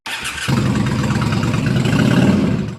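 A Royal Enfield 350 motorcycle engine starts up and then runs with a steady, loud mid-pitched rumble that stays close and continuous for a few seconds. No one speaks over it.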